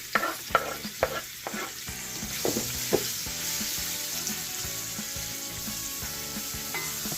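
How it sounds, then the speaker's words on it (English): Onion caramelizes in a pork pan with most of the oil drained, the spatula clacking and scraping in a quick irregular rhythm at first, then settling into a steady close sizzle. "we're gonna caramelize the onion right now"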